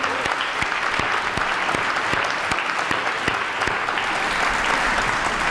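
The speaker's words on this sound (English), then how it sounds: "So how I get a big round of applause?" Loud, dense audience applause at a senior athletic awards and hall of fame event, sustained crowd clapping with a few distinct nearby claps standing out, heard alone throughout.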